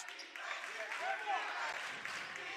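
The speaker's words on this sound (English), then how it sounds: "Bulldogs crowd getting into it." A girls' high school basketball crowd in a gym cheers and claps in a steady, moderately loud wash of noise, with a commentator talking over it.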